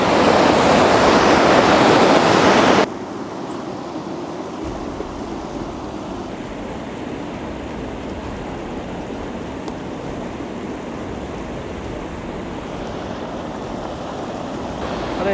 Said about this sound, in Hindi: जो नदी आ रही है बनकटिया पीक से